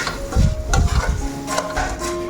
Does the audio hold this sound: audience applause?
no